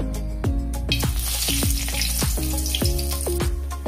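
Whole spices frying in hot oil in a kadai, a continuous sizzle with a regular series of sharp clinks and scrapes from stirring, close and fairly loud.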